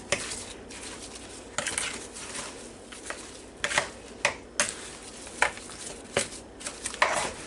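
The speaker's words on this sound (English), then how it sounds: "Stir that up together a little bit." A utensil stirs pasta salad ingredients together in a bowl, giving soft scraping, clinking taps against the sides in an uneven rhythm, close and moderately quiet.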